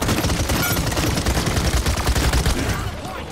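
Rapid bursts of gunfire from a shooter video game, with continuous automatic rattling shots that are loud and dense throughout.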